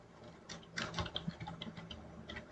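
Quick, irregular clatter of keys on a computer keyboard while JavaScript code is entered, light taps bunching into short bursts at close range, no voices present.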